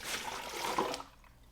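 Salt water poured over a turkey being prepared for smoking: a brief, close splashing trickle of liquid that cuts off after about a second, with no talk.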